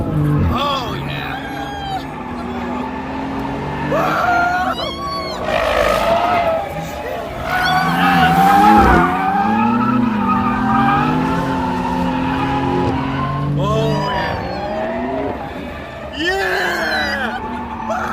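A drift car at the SEMA Show in Las Vegas roars and skids with long, loud tire squeals and revving engine surges, close and continuous, while people talk and shout over it.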